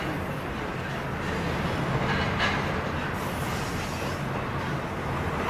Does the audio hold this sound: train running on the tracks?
yes